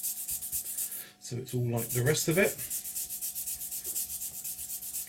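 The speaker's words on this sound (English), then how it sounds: "all we can do is actually just come along with a coarse sanding stick, okay, and sand the back down flat" A coarse sanding stick scrubs back and forth to sand the back of a piece down flat, making steady rhythmic rasping strokes that run through the clip, with someone talking briefly partway through.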